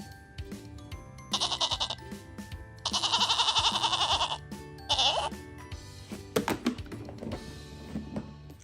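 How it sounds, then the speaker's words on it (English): A goat bleats three times in quick succession, two short cries around a longer drawn-out one, loud and close, followed by a few light clicks and taps. "Our next one is a goat."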